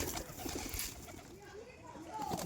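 Pigeons coo in low, soft warbles while feeding on paddy grain, against a busy, noisy background that sounds like faint murmuring.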